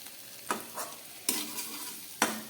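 Bitter gourd chochchori with potatoes and lentil dumplings cooking in a pan over low gas, three distinct scraping stirs spaced about a second apart over a soft steady sizzle, close and moderately quiet, no voices.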